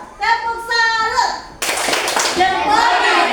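A classroom of children performs a salute clap pattern, sharp rhythmic group claps breaking into a dense burst, with children's voices chanting before and over the clapping.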